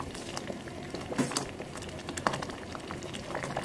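Kudumulu with chana dal simmering in a pot on a low stove, a soft, steady bubbling and popping up close, with a few brief louder plops.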